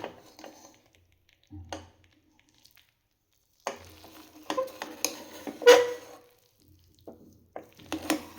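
Green peas palav is stirred in a pan, with sparse scraping and clinking of a spoon against the metal in irregular bursts, quiet gaps between strokes and a faint sizzle.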